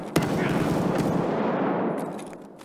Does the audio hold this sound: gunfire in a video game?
yes